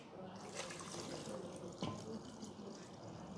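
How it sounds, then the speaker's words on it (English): Tap water runs steadily into a cooking pot during a live cooking class in a studio kitchen, a soft continuous splashing stream with a brief clunk partway through. "So when you put in the water, don't put the water more"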